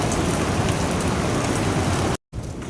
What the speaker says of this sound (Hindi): और बारिश देखिए कैसा हो रहा है।